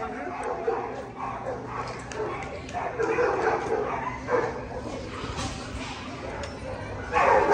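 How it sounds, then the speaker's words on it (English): French bulldogs bark, yip and whimper outdoors in a steady series of short calls, with people talking nearby over the noise. "These are the same dogs from that side."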